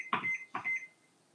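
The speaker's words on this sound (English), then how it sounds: "Put the timer on." A kitchen timer gives two quick electronic beeps as it is set, fairly close and fading into quiet.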